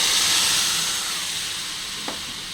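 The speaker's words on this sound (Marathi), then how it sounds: "लसूण आता बऱ्यापैकी फ्राय झालेला आहे" A steady hiss of garlic frying in hot oil, loudest at the start and easing slightly, with one brief soft knock near the end.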